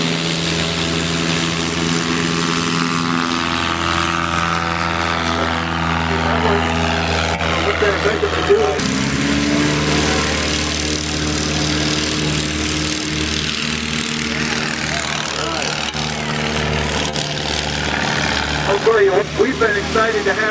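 A STOL airplane's engine starts and runs up at Oshkosh AirVenture 2014, with a steady loud propeller drone and a shift in pitch partway through, under continuous crowd and announcer talk.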